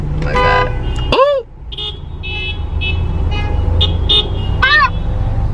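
Several short car horn toots sound over steady Los Angeles traffic rumble, with a loud voice breaking in near the start.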